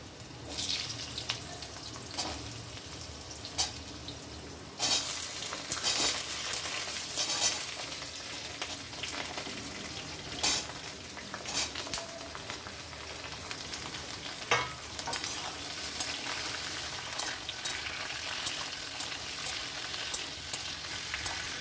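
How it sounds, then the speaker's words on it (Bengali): Mixed vegetables for Bengali shukto sizzling and frying in a pan after a spice tempering, a steady crackle with occasional louder stirring clatters, close by and continuous. "সব সবজিগুলো দিয়ে একটু ভেজে নেব"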